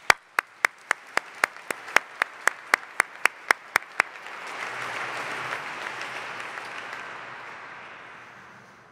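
At a nursing school hooding ceremony, a dozen sharp, evenly spaced claps ring out close by, then a broader audience applause swells in as a softer, steady wash that slowly fades.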